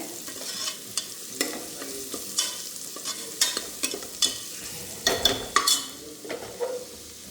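Curry leaves fry in hot oil in a pan, stirred in a beef dish. Quick, close scrapes and clinks ride over a crackling sizzle in an uneven rhythm.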